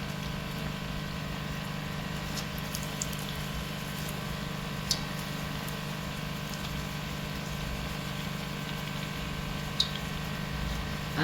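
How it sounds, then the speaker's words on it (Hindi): Pieces of Dhaka fried chicken bubble in hot oil, a soft, even sizzle with faint crackles and occasional small pops, steady and quiet with no voices. "इसे मैं थोड़ा सा गोल्डन करने तक फ्राई करती हूँ"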